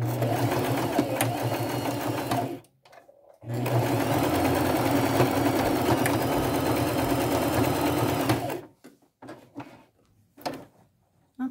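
A sewing machine runs steadily while stitching a flannel critter applique, a loud close whirring hum that stops briefly, resumes for several seconds, then halts with a few short bursts.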